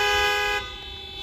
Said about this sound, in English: please give us a honk